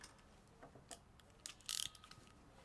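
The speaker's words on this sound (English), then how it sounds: "as you cut and go down, the tool will ratchet back into place" A Lee Fisher Sports ratchet crimper clicks quietly as it ratchets back into place, a handful of small sharp ticks ending in a brief cluster of fast clicks.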